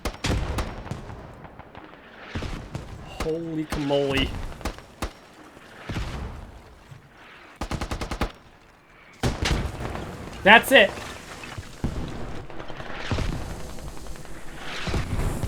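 Gunfire and explosions in the military shooter game Squad during a tournament match, with bursts of shots and booms from a rooftop fight, heard under excited commentary with loud peaks of blasts.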